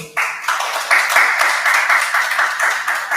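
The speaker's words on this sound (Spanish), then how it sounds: "para que pida un fuerte aplauso" A small audience at a speculative-fiction literary event bursts into close, lively clapping that swells in uneven pulses and carries on for a few seconds.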